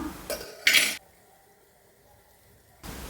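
A lid clanks down onto a pot of cooked chickpeas, with a few brief metallic knocks before a sharp bright clatter, then quiet.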